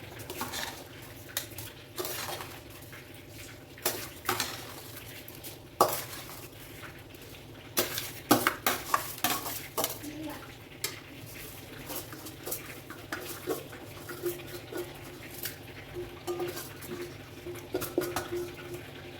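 A spoon scrapes and knocks against a metal pot in irregular bursts while seeraga samba rice is stirred for biryani, with soft sizzling underneath and no talking.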